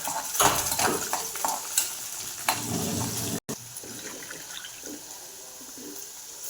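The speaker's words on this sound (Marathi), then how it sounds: "जिरे टाकून घेतले आणि लसूण मी जास्त टाकलेलं आहे तो छान परतून द्यायचा" Cumin and garlic sauté in a pan for fenugreek greens, giving a sizzle with metal utensil clinks and stirring that is busier at first, then quieter and more scattered after a brief cut.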